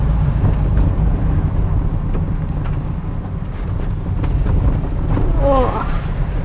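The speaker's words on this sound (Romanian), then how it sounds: "Te vine mașina, ai grijă?" A car comes along a narrow valley road in the Apuseni Mountains, heard from a van with strong wind buffeting the microphone; the low engine rumble is steady and close throughout.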